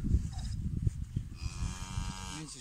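A cow that has just calved at home after coming in from the field gives a low, drawn-out moo close by. Steady farmyard noise runs underneath.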